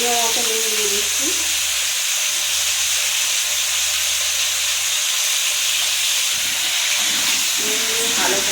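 Potatoes fry steadily in hot oil for Bengali aloo dum, a constant loud sizzle and hiss broken by a few brief scraping stirs, with no one speaking.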